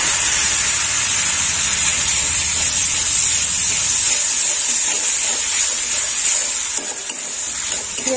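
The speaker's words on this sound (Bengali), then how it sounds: "পেঁয়াজটা একটু লাল লাল ভাজা হোক" Onion paste frying in a pan, a loud steady sizzle and hiss with occasional stirring scrapes, continuing without pause for several seconds.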